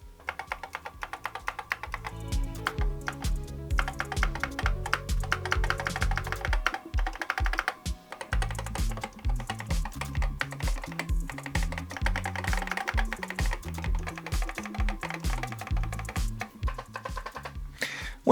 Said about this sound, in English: Before we test the keyboard